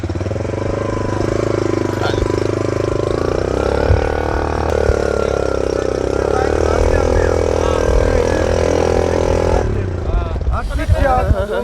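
A motorcycle engine hums steadily up close while riding on a road trip from BabuSarTop toward Sialkot, with people talking over the running engine and wind noise before the ride settles near the end.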